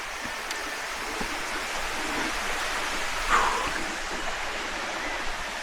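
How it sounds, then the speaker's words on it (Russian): A waterfall in the Philippines gives a steady, broad rush of falling water that holds an even level from start to finish, with no talk over it. "Водопад."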